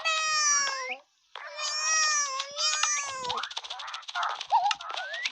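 A cat meows repeatedly, with long drawn-out cries and shorter whining calls in quick succession, close and fairly loud, with no talk alongside.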